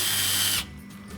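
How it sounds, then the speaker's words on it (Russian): A cordless screwdriver spins to twist tie wire while building a masonry stove-fireplace with a bread chamber, a steady loud whir lasting about half a second before it cuts off, followed by a faint click. "Как удобно завязать проволочку. Во, смотрите, шуруповертом."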